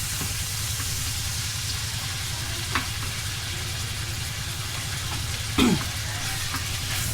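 Ground pork giniling frying with onion in a pan for homemade spaghetti sauce, a steady close sizzle and crackle with a low constant hiss and a couple of brief stirring scrapes, no talk.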